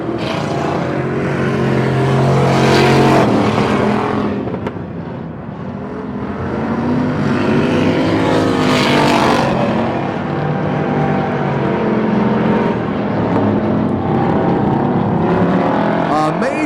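Stock car engines roar continuously at a 1996 Turkey Classic dirt track race in Pearsonville, California, cars swelling and fading as they pass near, with a commentator talking over the loud, steady racing din.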